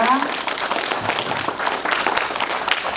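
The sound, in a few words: audience applause welcoming a ballerina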